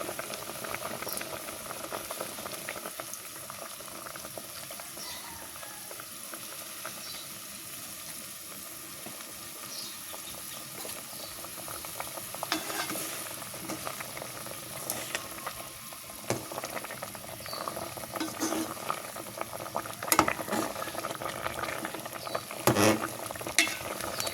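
A pot boils close up while fish sauce is poured in and stirred. Bubbling and sizzling patter go on continuously, broken by occasional clinks and scrapes of the spoon that grow louder toward the end.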